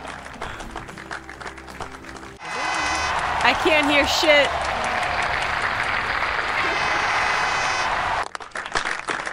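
Synthetic applause sound effect triggered on a Twitch stream, a steady wash of crowd clapping and cheering that swells in, holds loudly for several seconds, then cuts off abruptly, with someone talking over it.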